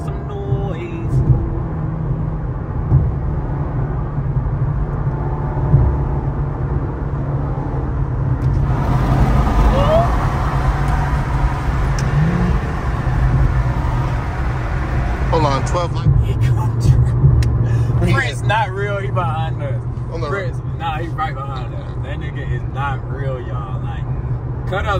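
Ford Mustang engine rumbling amid road traffic, a steady low drone throughout with engine revs rising around the middle, under nearly continuous talk from people inside a car.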